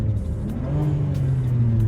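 BMW 335i engine revved while driving with the windows up, a steady low rumble and drone heard from inside the cabin, with no distinct blow-off hiss.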